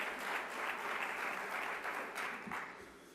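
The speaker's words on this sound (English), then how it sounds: "One more round of applause for Mayor Joe Riley." A large hall of mayors at an annual meeting's opening plenary applauds for Mayor Joe Riley, with broad, sustained clapping that is steady and fairly distant and tapers slightly at the end.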